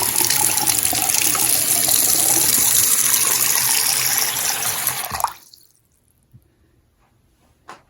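Hot water pouring from a newly installed bathroom faucet into a sink, a loud steady close rush for about five seconds that cuts off abruptly, followed by a few faint drips.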